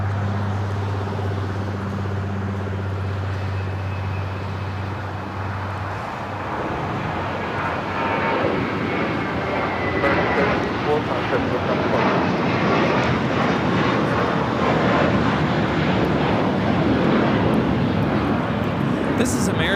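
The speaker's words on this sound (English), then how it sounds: "This is American Airlines 764 taking off to Puerto Vallarta on the A321" American Airlines Airbus A321 jet taking off at LAX, engine roar building from a steady hum into a louder broadband rumble over about twenty seconds, with a low drone at first and voices talking faintly underneath.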